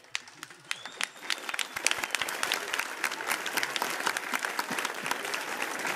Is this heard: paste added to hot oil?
no